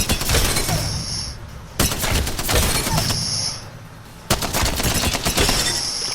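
Gunfire from a weapon in the video game Apex Legends: loud, rapid automatic bursts in three sustained volleys separated by sharp resets, close and dominant.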